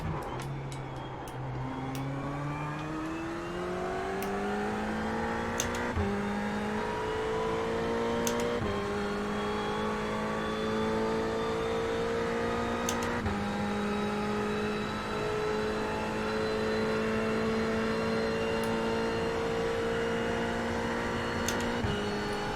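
Race car engines in the iRacing sim racing game, with a strong rising and holding engine tone and a loud, steady drone of revving motors throughout, joined by brief shifts and passing cars.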